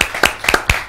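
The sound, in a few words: studio audience applauding to welcome a guest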